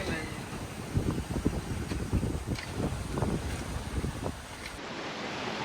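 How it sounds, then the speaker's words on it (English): Wind rushing over a sailboat running downwind on a rolly sea, steady broadband buffeting with wave wash and microphone wind noise throughout, loud and close. "The wind is coming right behind us."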